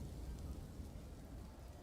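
Steady rain in the game Dwarf Fortress, a quiet continuous patter with faint rumbling underneath, no voices.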